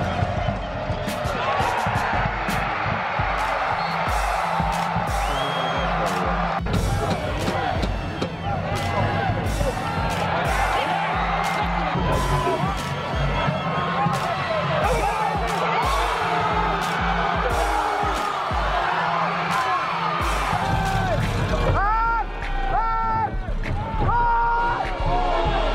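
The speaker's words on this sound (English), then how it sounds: "Highland's crowd absolutely deafening." Roaring crowd at a Highland high school football game, heard from the sideline as a loud, continuous wall of cheering and whoops with a band or horns mixed in throughout.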